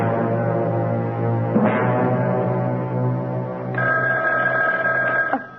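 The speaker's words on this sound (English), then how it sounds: "That telephone never seems to stop ringing." A telephone bell rings loudly in long sustained bursts, one ring giving way to another with a brief shift in tone, filling the room with no talk over it.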